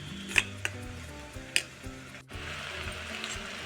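Spoon stirring half a cup of yogurt mixed with coriander powder and mutton masala for a mutton keema curry, with soft scraping and a few light clinks against the bowl, close and quiet, over background music.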